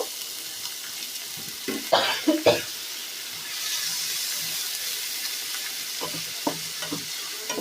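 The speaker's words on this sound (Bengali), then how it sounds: "পেঁয়াজগুলো লবঙ্গ আর এলাচের মধ্যে ভালো করে পেঁয়াজগুলোকে ভেজে নেব" Onions fry in a pan with cloves and cardamom, a steady close sizzle with a few louder stirring scrapes early on, then a brighter hiss settling over the rest.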